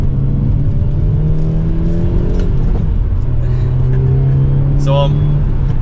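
2023 Hyundai Elantra N with a manual gearbox, its exhaust in N mode under mild acceleration, a steady, moderately loud engine hum rising in pitch, with a brief higher whine near the end.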